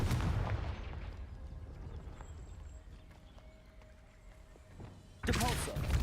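The Confringo fire spell is cast in the wizarding game Hogwarts Legacy. A loud explosive blast decays into a quieter rumbling tail, and a second sharp burst erupts near the end.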